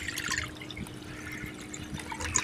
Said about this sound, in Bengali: ওই কড়াতে জল দিয়ে দিচ্ছি।